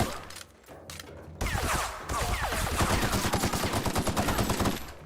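Gunfire in The Outer Worlds video game: a few scattered shots, then a loud, sustained rapid burst of automatic fire that rattles on for several seconds before fading.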